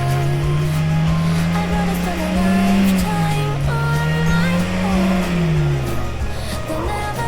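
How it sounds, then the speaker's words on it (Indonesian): On a campground road, a car's engine revs hard as its wheels slip. The engine pitch rises and falls in long surges, loud and close, against a steady mechanical drone. "mobil kami pun mengalami selip"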